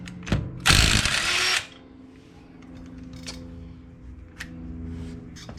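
A power tool loosens the lug nuts on a 2018 diesel Chevrolet Equinox, one short loud whirring burst up close, then quiet handling clicks and faint background noise.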